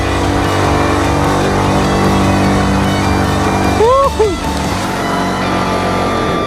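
A car engine labors up the steep Cicurug hill road in Sunda with a steady, droning hum that holds throughout. A brief voice cuts in partway through.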